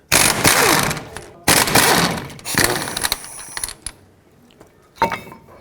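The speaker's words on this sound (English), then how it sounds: "Next, I'm going to remove the caliper with its bracket off the knuckle and set it aside." Ratcheting wrench clicks and metallic clanks while the 18mm caliper bracket bolts come off a 2007-14 Chevy Silverado front knuckle, heard in several loud bursts with short pauses between them.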